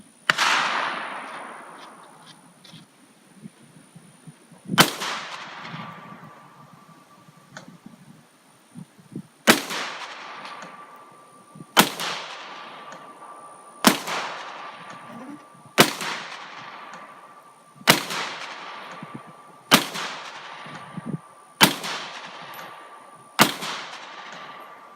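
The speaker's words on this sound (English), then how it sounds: "I'll start shooting it momentarily." About ten sharp, loud 9mm pistol shots fired one at a time from a Ransom rest, spaced a few seconds apart, each followed by a fading echo tail.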